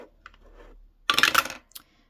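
A six-sided die rattles and clatters across a hard surface in a short burst of sharp tumbling clicks, then settles with a final tap.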